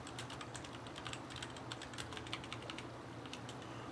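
Steady rapid typing on a computer keyboard, dense clicking keystrokes throughout over a low background hum, no talking.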